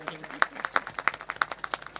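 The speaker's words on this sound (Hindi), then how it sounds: "उसके लिए एक बार जोरदार ताली बजाएं" An audience claps quickly and densely at a prize distribution for a bhajan competition in Obaidullaganj, with sharp, closely spaced claps rising and falling throughout.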